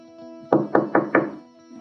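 Four quick knocks on a hard surface, sharp and close, evenly spaced in a short burst, with a faint murmur of voices before and after.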